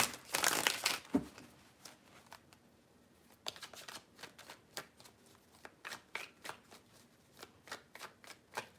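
A deck of tarot cards is shuffled close up, with a quick riffle burst at the start followed by a steady series of soft, crisp card flicks and taps, fairly quiet and with no talking.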